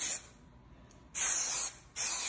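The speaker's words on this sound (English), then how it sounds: "Hey guys, I'm spray painting." An aerosol spray can hisses in three bursts while paint is sprayed onto a PS5 console: a short initial spray, a pause, then a longer close, loud hiss and a final burst after a brief gap.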